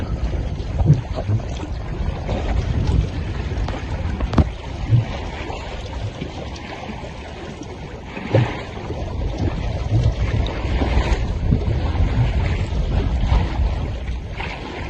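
A sailboat moves up the coast of the Indonesian islands in a very light breeze of about four knots, giving a continuous rush of wind and water against the hull with occasional soft knocks and buffets close to the microphone.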